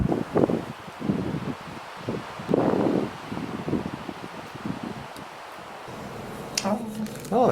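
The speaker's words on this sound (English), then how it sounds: "and that wind is still whipping." Strong, bitterly cold Minnesota winter wind gusts and buffets the microphone in uneven surges, with rustling and a voice speaking over it.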